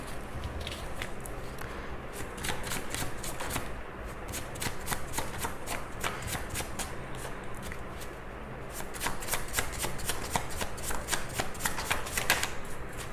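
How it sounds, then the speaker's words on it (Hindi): A deck of tarot cards is shuffled over and over by hand, making steady, rapid riffling and slapping bursts at close range that continue throughout. "ये आखिरी शफल होगा"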